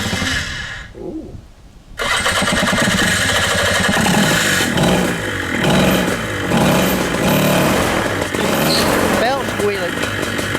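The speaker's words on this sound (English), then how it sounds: "Let's see if she works, huh?" Whip Minari 180 miniplane paramotor engine starting after a brief pull, then running loud and close with a rough buzzing drone and uneven revving, with people talking over it.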